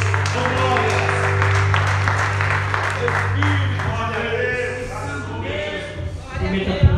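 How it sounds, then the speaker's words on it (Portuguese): Congregation at an evening church service applauding for Jesus, dense sustained clapping over a steady hum of music or organ tones, loud and close, tapering slightly near the end with a few scattered sharper claps. "E vamos dar uma salva de palma bem gostosa para Jesus, porque Ele merece."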